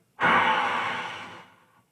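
A single long exhale blown out forcefully during a yoga breathing exercise in an adult class, close and breathy, rising sharply then tapering off over about a second and a half, with no talking.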